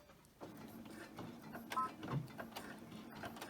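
A sewing machine runs a straight stitch on a homemade sleep mask, making a quiet, uneven run of soft mechanical clicks and thumps, with no talking over it.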